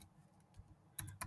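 A handful of faint computer keyboard keystrokes, quiet and close, with a short pause before the last couple of taps.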